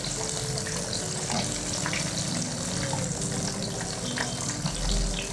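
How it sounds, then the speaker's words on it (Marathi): Paneer popcorn deep-frying in oil gives a steady, dense bubbling hiss that runs the whole time at moderate loudness, with no voices over it. "छान झालं तळून."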